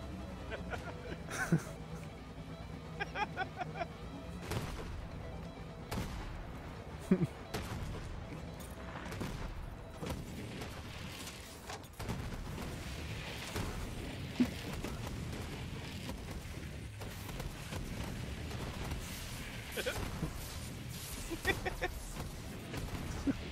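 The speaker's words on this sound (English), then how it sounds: "There's so many explosions." Loud, dense bursts of gunfire and explosions from a firefight in the video game Borderlands 3 at the Jakobs Estate, with booms and shots piling up continuously while players talk over the chaos.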